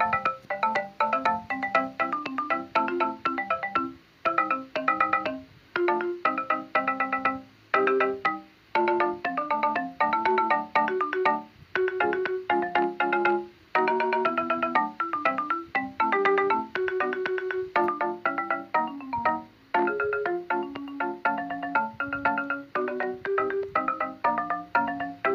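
A tune composed in Chrome Music Lab, with bright, synthetic, ringtone-like notes in a steady busy melody over a low bass line, played continuously and loud for the whole stretch.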